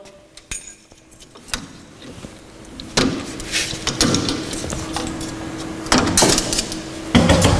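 An ATEX pneumatic fixed-band drum rotator for 200-litre drums has its fixed metal band opened, giving a scattered series of sharp metallic clicks and clunks, with busier rattling toward the end.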